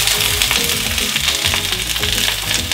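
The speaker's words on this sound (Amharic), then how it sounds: "መጀመሪያ ሽንኩርቱን ነው የምንጨምረው። ዘይቱ ግሎልናል፣ አሁን መጥበሻችን ግሏል።" Chopped onions fry in hot oil in a pan for Ethiopian firfir with dried beef, giving a steady, loud, close sizzle and crackle that runs without a break and with no talk.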